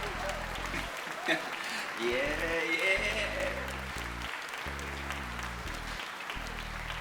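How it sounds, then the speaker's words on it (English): A studio audience claps steadily at the opening of a comedic game-show sketch, the dense clapping running under a brief spoken word and a low musical bed throughout. "Stop clapping."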